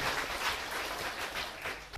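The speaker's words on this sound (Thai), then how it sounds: "ขอเสียงปรบมือให้ กำลังใจท่านอีกครั้งหนึ่งครับทั้ง4ท่านครับ" A studio audience applauds four patients on a Thai health programme, a faint, steady wash of many hands clapping at a distance with no speech over it.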